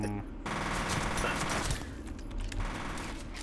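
Enemy automatic gunfire coming through a gate in the video game F.E.A.R., rapid continuous bursts of shots that rattle on for a few seconds at close range before easing off.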